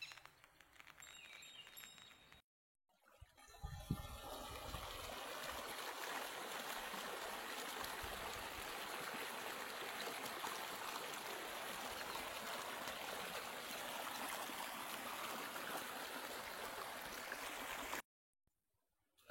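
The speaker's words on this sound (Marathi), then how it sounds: "इकडून पाणी वगैरे येतोय." A stream runs beside village fields on a Konkan evening, its steady broadband rush and trickle continuous and fairly close, with a short quieter stretch at the start and a brief dropout near the end.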